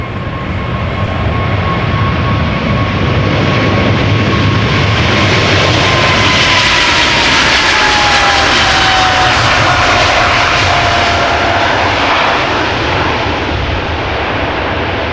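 A Boeing 777 roars loudly and steadily through its engines on takeoff at Amsterdam Schiphol Airport, a heavy rumble with a rising whine sliding across it as the aircraft powers away.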